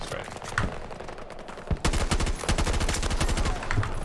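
Rapid automatic gunfire in Battlefield 2042, a few scattered shots followed by a long sustained burst of sharp, loud reports with a voice talking under it.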